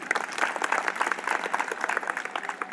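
An audience applauds at a cultural program in Sonbhadra, India, with crisp, rapid clapping from a moderately sized crowd that stays fairly even and continuous throughout, no voices over it.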